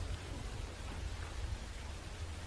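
Heavy rain falling outside at night, a steady dense hiss with a low rumble underneath, used as a horror podcast sound effect, continuous and without voices.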